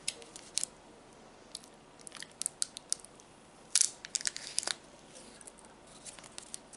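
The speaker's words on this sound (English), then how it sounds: "I thought it would be harder to chew into, but it's really easy." Someone chews candy close to the microphone, giving off irregular crisp crunches and sticky snapping bites in scattered bursts against a quiet background, with no talking.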